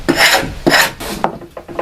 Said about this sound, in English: I'm going to quickly scrape this paint off